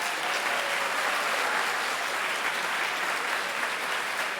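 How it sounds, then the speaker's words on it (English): Sustained audience applause fills a theater at a TEDx event at a college school, a dense, steady wash of many hands clapping at close range, with no break across the stretch. "so a huge round of applause for them,"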